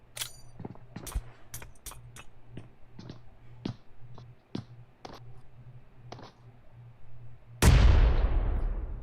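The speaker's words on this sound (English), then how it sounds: "That's a teammate hurting a teammate with a nade." A grenade in a multiplayer shooter game bursts in a loud, booming blast after a run of sparse distant gunshots and clicks, with the rumble trailing off at the end.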